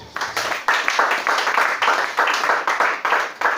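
A church congregation at a French-language Sunday worship service claps in a steady, rhythmic beat, roughly two claps per second, loud and close throughout.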